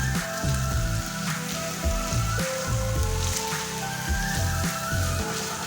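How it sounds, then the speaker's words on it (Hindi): Finely chopped onion sizzling loudly and steadily in a hot pan, a dense crackling hiss throughout with low rhythmic thumps underneath. "ये इसमें हम कटा हुआ प्याज शामिल करेंगे।"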